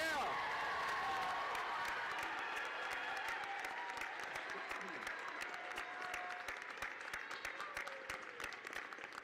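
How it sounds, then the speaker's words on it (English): Large crowd at a Northwest Mississippi Community College commencement giving graduates sustained loud applause with some cheering, dense clapping throughout that slowly thins, with voices murmuring underneath. "Give them a big round of applause."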